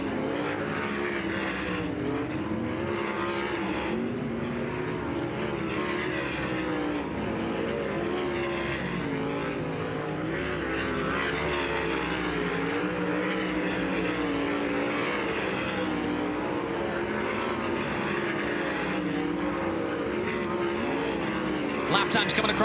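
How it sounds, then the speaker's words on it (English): Dirt track race cars run hot laps at Las Vegas Motor Speedway in a High Limit Racing season opener, their engines a steady, continuous roar from a distance, with a commentator talking over it throughout. "First group of Dirt Draft Hot Laps is getting up to speed now at the dirt track at Las Vegas Motor Speedway"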